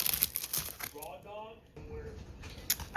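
A Mylar sheet being torn and peeled away from freestanding lace machine embroidery, giving close crinkling and tearing rustles that come in bursts with short pauses.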